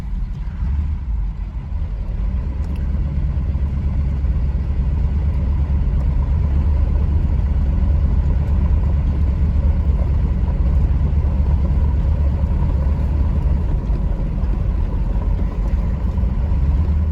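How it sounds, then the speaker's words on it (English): Vehicle on a Saskatchewan grid road pulling a trailer loaded with fence posts and a quad, a loud, continuous low engine and road rumble from inside that holds steady throughout with no speech. "I'm pulling a trailer with a bunch of fence posts and a quad on it for old Nicholas"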